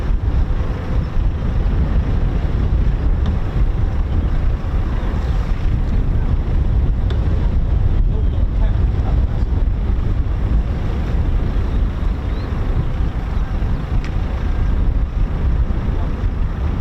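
Strong outdoor wind beside RAF Coningsby airfield buffets the microphone in a steady, loud, low roar that holds unbroken from start to finish with no voices.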